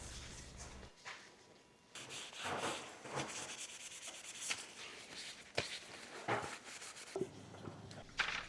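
A cloth rubs beeswax over walnut-stained wood in faint, close, irregular strokes, a soft scratchy swishing with brief pauses between passes.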